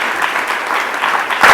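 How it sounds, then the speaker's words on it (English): A short burst of loud, close audience applause at a Celebration of Women event, filling the whole moment with dense clapping. "Round of applause."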